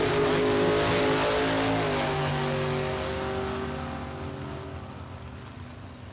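Drag racing cars, a Ford Mustang and a Chevrolet S10, accelerating hard at a drag strip, a loud roaring engine note that fades steadily as the cars pull away.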